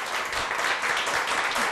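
Studio audience applauding on a Turkish television talk show, a dense, steady wash of clapping filling the whole moment at close range.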